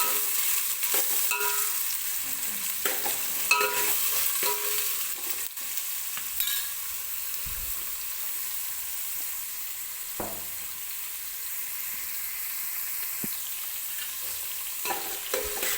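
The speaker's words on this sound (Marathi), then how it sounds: "त्याच्यावरतीच मी हा कांदा छान असा भाजून घेणार आहे" Onion frying in oil over a high gas flame for chicken pulao, a steady close sizzle running throughout with occasional scrapes and stirs of a spoon in the pan.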